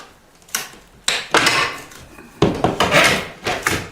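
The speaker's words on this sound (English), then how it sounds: "So I think what I'll do is just pull this lower casing off." Wooden lower casing trim is pried and pulled off in a garage, with several sharp cracks and scraping creaks in short bursts, close and fairly loud.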